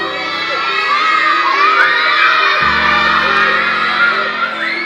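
A crowd of children screams and cheers together at a lively Friday Shabbat service, a loud continuous wall of shrill shouts and whoops with music underneath.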